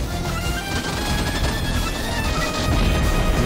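In the WWII flight game Gunship Sequel, the wing-mounted guns of a Ki-44 fighter fire in a dense, continuous, loud rattle of rapid shots layered over constant engine and battle noise.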